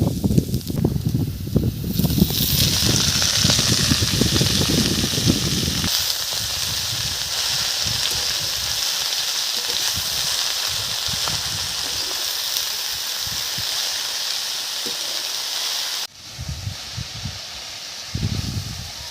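Malabar spinach greens are dropped into hot oil with fried onions and give a loud, steady sizzle and hiss, with stirring and clattering at the start and end.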